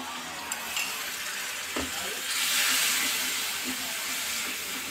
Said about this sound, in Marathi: मसाला जळू नये म्हणून थोडंसं पाणी टाकायचं आहे.